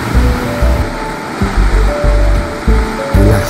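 A clean, cold river in Apya rushes by after rain. It makes a loud, close, churning wash with low rumbling surges that pulse every half second or so, and no talking.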